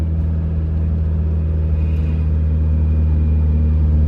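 Mazda Miata fitted with drift knuckles cruising on a straight, a steady, loud low engine and road drone from inside the cabin, continuous without talk.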